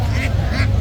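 Ducks for sale at a market let out two quick nasal quacks over a low, steady background hum.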